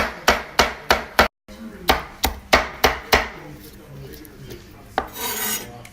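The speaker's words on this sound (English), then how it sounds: "Go back to chopping." Rapid knife chops on a cutting board, about a dozen sharp, close, evenly spaced strikes with a brief pause, then a softer rasping scrape near the end.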